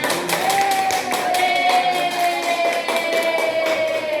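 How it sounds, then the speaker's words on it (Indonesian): Schoolchildren in a classroom clapping for a group, a burst of quick claps with a sustained tone ringing faintly underneath. "Tepuk tangan untuk kelompoknya."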